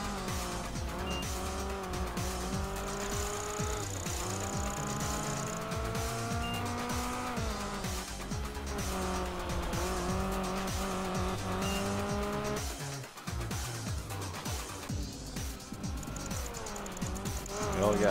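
Race cars in Project Gotham Racing 4, Class E vehicles, roar continuously with rising and falling engine pitch through gear changes and occasional tire squeal, a steady loud racing drone throughout.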